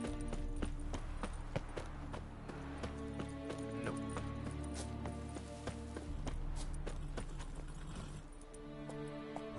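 Rapid, steady hoofbeats of the horse Roach galloping in The Witcher video game, a continuous rhythmic clip-clop heard fairly quietly, with faint voices in the mix.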